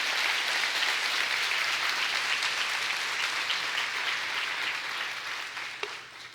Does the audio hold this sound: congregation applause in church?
yes